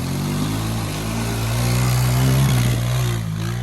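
A Honda 300 6x6 ATV engine revs hard at full throttle, a loud, close, sustained drone with a steady low pitch that swells slightly.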